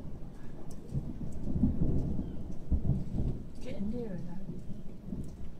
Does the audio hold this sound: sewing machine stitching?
no